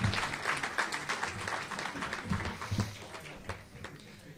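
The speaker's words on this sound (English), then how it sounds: "please give another round of applause for the 2000 women's volleyball team as this year's Team of Distinction" Sustained applause from an audience at an athletics hall of fame awards dinner, honoring a women's volleyball team; steady dense clapping throughout, fairly loud and close, with no talking over it.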